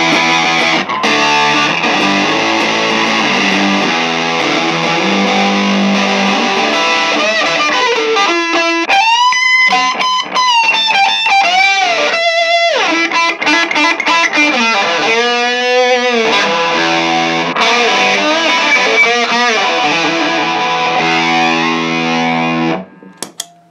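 Heavily distorted electric guitar through a Rat 2 distortion pedal, distortion at maximum, playing loud, sustained chords and riffs continuously, cutting off abruptly at the end.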